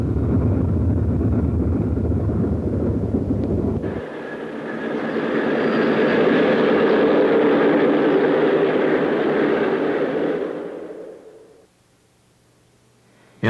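A Boston & Maine streamlined passenger train, the Flying Yankee, rumbles past nearby, a loud sustained roar with a higher whine that holds for several seconds, then cuts off abruptly to near silence.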